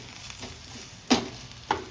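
Beetroot, potato and eggplant fry together in a pan with a light, steady sizzle, broken by two sharp clinks of a utensil against the pan.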